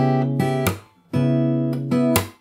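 Fingerstyle guitar plucks a chord passage from a jazz standard, full chords then upper strings in short sustained groups with a brief gap, clean and close.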